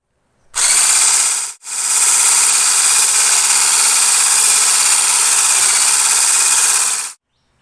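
An electric hand mixer beats separated egg whites for a plain cake with a loud, steady, high whine. It stops briefly once near the start, then runs on for several seconds.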